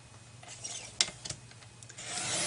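A 12-inch paper strip being cut down to 1 inch for a treat bag craft: quiet rasping scrapes build to a sharp cutting snap, followed by a few softer strokes and a rising rustle, with no talking.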